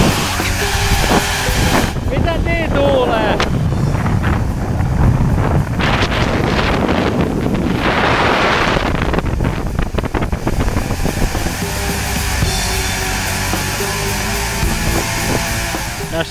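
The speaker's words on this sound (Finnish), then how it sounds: "Tässä on vähän tuulta soi." Strong wind roars across the open summit of a Norwegian mountain, buffeting the microphone loudly and continuously with rough gusts, while climbers speak briefly over it.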